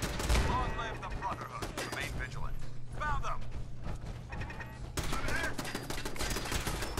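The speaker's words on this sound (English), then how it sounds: "We're gonna use the laser rifle." Rapid, dense bursts of laser rifle fire in the video game Fallout 4, crackling continuously with mechanical clatter under a busy game soundscape while people talk.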